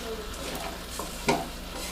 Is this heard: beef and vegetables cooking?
yes